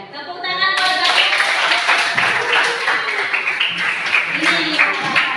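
Students in a classroom clapping together, a lively, close burst of many hands with uneven rhythm, rising quickly after a brief voice at the start and continuing strongly to the end.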